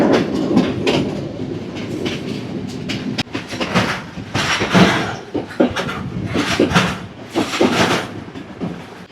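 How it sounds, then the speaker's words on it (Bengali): A train pulls out of a small Sri Lankan railway station with loud rumbling and rhythmic clickety-clack of wheels on rail joints, close and continuous without talk. "ছেড়ে দিল আমাদের ট্রেন সিয়ালাঙ্গামুয়া রেলওয়ে স্টেশন থেকে"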